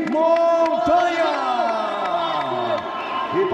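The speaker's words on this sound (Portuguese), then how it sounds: "Uma salva de palmas para Henrique Montanha." Arena crowd at a Jungle Fight MMA event cheering and clapping as a fighter is introduced, a dense roar beneath a loud announcer's voice that carries throughout.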